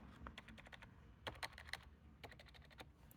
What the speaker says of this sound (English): this is the travel of the keyboard